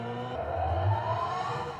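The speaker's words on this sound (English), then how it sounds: "this sound will give you the driving feedback that'll make you feel even more connected to Ioniq 5N" Synthetic driving sound from a Hyundai Ioniq 5 N electric car, a smooth rising engine-like tone swelling gradually over a low hum, moderately faint and alone.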